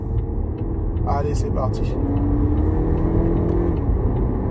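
A Volvo XC40 drives along the road with a steady low rumble and tire roar from inside the cabin, while someone speaks briefly in French over it.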